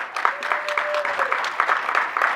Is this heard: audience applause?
yes